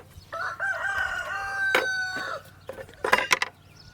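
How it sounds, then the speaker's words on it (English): Roosters crow in a long, loud drawn-out call nearby, followed by shorter clucking and a second burst of crowing from the flock of backyard chickens. "I have like 4 or 5 roosters, and the neighbor has at least 2. So they're always yelling at each other."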